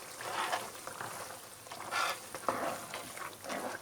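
Achar gosht simmers over a low flame with chili and coriander, giving a soft, close bubbling sizzle that swells and fades in gentle pulses with a faint clink, and no talking.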